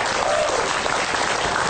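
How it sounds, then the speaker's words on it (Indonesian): An audience bursts into steady, dense applause at a religious gathering, a continuous wash of many hands clapping close and loud throughout, with no talk over it. "Nah, tepuk tangan"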